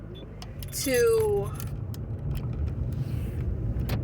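Steady road rumble and tire noise from traffic fill the inside of a moving car, low and continuous, while a person talks briefly over it.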